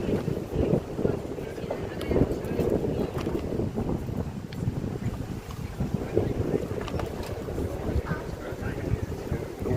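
Heavy wind blowing outdoors, buffeting the microphone with a steady low rumble and gusts throughout, with a person talking over it.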